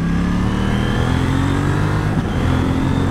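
A KTM Duke 790 motorcycle engine pulls hard and upshifts without the clutch, a loud continuous rider-perspective drone with rising engine tones and a brief shift break, wind rushing underneath.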